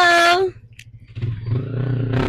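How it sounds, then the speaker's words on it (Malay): A Yamaha RXZ motorcycle engine idles and rumbles low nearby, rising in a steady drone after a brief high-pitched voice and a pause. "So, Farida akan naik dengan abang Farida motor."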